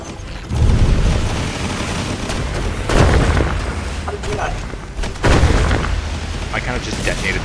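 In the wizard video game Magicka, a detonated field sets off a series of heavy, rumbling booms, three strong surges over several seconds amid constant crackling, with voices mixed in.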